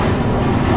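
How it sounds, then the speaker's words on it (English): A propeller airplane passes overhead near a lake or shore where Sea-Doo watercraft are being run, its engine a steady, broadband drone that stays loud and constant for the short stretch, with no talk over it. "We got a plane."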